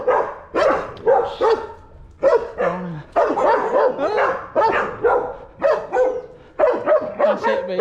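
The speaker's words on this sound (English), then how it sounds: "Getting hounded by these dogs." Several dogs bark close by in Tuxtla Gutierrez, Mexico, giving loud, repeated yipping barks in quick irregular bursts with brief pauses throughout.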